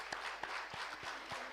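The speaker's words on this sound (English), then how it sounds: "Let's keep the claps rolling," Conference audience applauding at a startup expo and conclave, a steady dense wash of many hands clapping throughout with a few sharper individual claps standing out.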